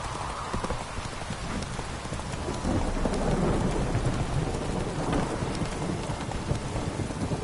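Horse galloping through a rainstorm in The Witcher 3 game, with a rapid, continuous clip-clop of hooves over steady rain and low thunder rumbling, growing slightly louder partway through.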